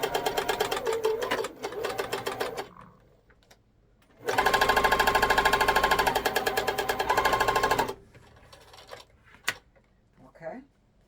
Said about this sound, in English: we're gonna sew this really quick